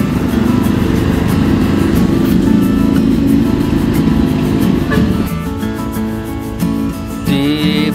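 A Dewi Sri intercity bus pulls away from a roadside rest stop in Cirebon, its engine roaring loudly and steadily up close, with the tone shifting as it moves off and a brief tonal horn-like sound near the end.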